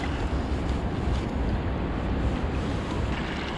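The small outboard motor on a fishing float tube drones steadily across the water, mixed with strong wind buffeting the microphone and lapping water, with no voices.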